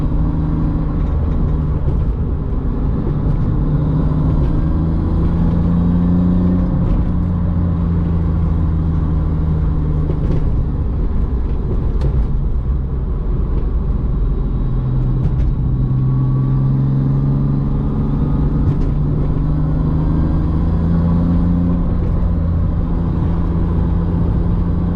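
A car driving through thick wildfire smoke during the California fires, its engine and road noise a steady, close, loud low rumble with slight pitch shifts as it moves along, with no talking.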